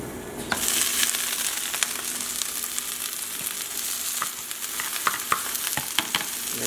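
Kale seasoned with salt and pepper sizzles loudly in a hot pan, a constant close frying hiss broken by scattered clicks and scrapes of stirring.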